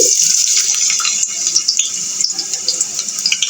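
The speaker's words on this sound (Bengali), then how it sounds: "হালকা সিদ্ধ হওয়ার পর এখন আমরা এটাকে ছেঁকে নিব" Water pours off lightly boiled chicken and vegetables as they are strained in a home kitchen, a steady close splashing gush that runs the whole time with no talk.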